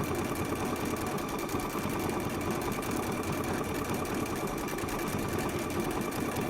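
A sewing machine running steadily on an open stitch while sewing a large circle, its fast motor whir and rapid needle chatter continuing evenly throughout with no voices.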